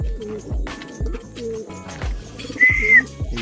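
Racing pigeons coo in a loft, with repeated low throaty calls rising and falling close by, plus a brief higher chirp near the end.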